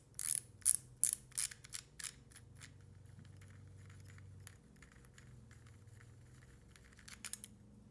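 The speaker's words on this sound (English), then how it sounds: "you'll twist off this drag handle And it's going to click and click and click" Drag handle being twisted off a KastKing WhiteMax fishing reel, giving a quick run of sharp, close clicks at the start and a few more near the end, with quiet mechanical handling in between.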